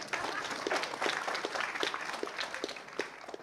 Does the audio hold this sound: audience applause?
yes